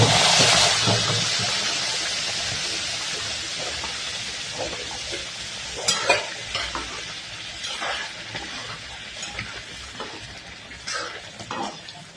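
A loud hissing rush of boiling water poured onto roasted semolina in a hot pan bursts out, then settles into a softer, spitting sizzle with scattered pops.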